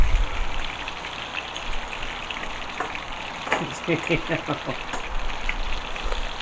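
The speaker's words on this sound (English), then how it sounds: "we're going to let this butter brown just a little bit more" Butter browning in a hot pan alongside halibut, giving a close, steady sizzle with bursts of sharper crackling and spitting partway through.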